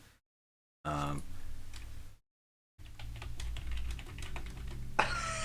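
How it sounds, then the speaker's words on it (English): Rapid, furious typing on a computer keyboard, close and clattering, in two bursts separated by a brief silence. "that furious typing noise"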